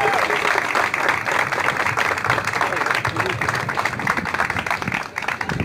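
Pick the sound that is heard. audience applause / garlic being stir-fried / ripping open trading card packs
audience applause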